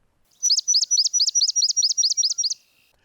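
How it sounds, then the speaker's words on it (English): A single swamp sparrow sings its slow, even trill of about a dozen repeated chirping notes, clear and close, with silence on either side. "Swamp sparrows, they have that slow trill"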